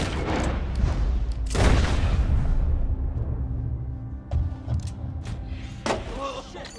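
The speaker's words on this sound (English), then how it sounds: "I'm sure nobody on this freaking boat literally heard a fucking gunshot" Gunfire in the video game Red Dead Redemption 2 booms loudly near the start, with a big blast around the middle followed by scattered thuds and clatter fading into a quieter tail.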